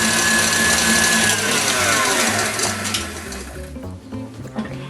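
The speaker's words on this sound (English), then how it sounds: "I'm going to put it on our electric mixer with the whisk attachment and beat on high speed until there's stiff" Steady high-speed whir of an electric stand mixer with a whisk attachment beating egg whites to stiff peaks, loud and close, easing toward the end with a few clinks.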